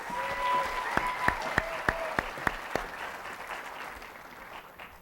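Audience applause for a singing contestant at the Distinguished Young Women of Triton 2018 pageant, moderately loud and fading toward the end, with a series of sharp evenly spaced claps or taps standing out mid-stretch.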